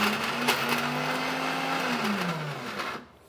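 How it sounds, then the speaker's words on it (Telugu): A mixer grinder whirs loudly through a single short run, grinding gongura leaves with salt, then winds down and stops. "కాబట్టి నేను మిక్సీ పట్టేస్తాను."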